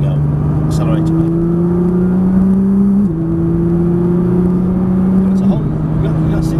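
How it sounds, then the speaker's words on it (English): A Nissan GT-R accelerates hard on the Prestwold Hall trackday circuit. Its engine drone climbs steadily and drops briefly at two upshifts before rising again, loud and sustained from inside the car. "Squeeze the power now, and away you go. Accelerate away."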